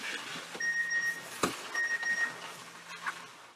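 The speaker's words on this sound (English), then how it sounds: "Sounds like a message on the phone." A phone gives two short message notification beeps, each a quick pair of thin electronic tones, faint over a quiet room with a soft thump between them.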